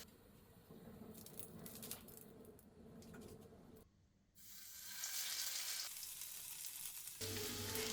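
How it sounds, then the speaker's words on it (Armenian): Zucchini cutlets sizzle and crackle steadily in hot vegetable oil in a frying pan, with a brief lull midway before the frying noise returns louder and fuller. "ձևավորում ենք կոտլետներն ու տապակում երկու կողմից"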